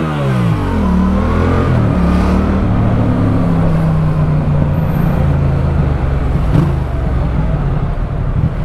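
Steady, loud engine rumble of road traffic heard from a Yamaha XSR700 motorcycle, a vehicle droning and shifting pitch nearby with continuous roadway noise and no speech.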